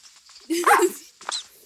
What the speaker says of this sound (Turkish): Oha! Zombi köpek!